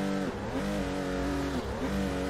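A 2JZ engine in a 350Z revs in the Torque Drift racing game, loud rising and falling tones with quick shifts repeated a few times.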